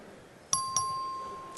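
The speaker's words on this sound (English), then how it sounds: "The clerk will ring the bell." Electronic bell rung by the House chamber clerk to open a vote, two quick chime strikes with a ringing tone that fades, then a faint third tone in a quiet room.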